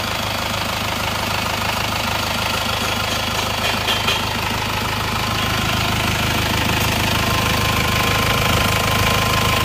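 Rough, knocking idle of a car engine that still runs unevenly after a full rebuild, a loud, close, continuous rumble with a steady uneven beat throughout.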